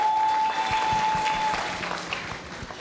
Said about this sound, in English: Give her a hearty clap.